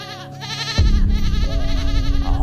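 A goat in a village shed cries out at night: a single loud, quavering bleat, followed by a rougher, lower sound that continues close by.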